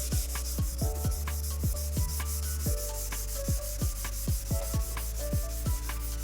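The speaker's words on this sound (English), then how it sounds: "the Scotch-Brite pad can actually be used as sandpaper" Scotch-Brite pad scrubbed back and forth over a faded car headlight, giving a steady rhythmic rasping rub over a constant background hum, close and fairly loud.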